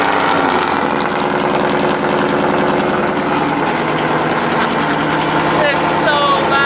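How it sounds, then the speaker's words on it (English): A loud engine from a car collection that includes an F12 and a C63, idling roughly after a cold start and filling the space, with people talking over it. "you're waiting for another cold start"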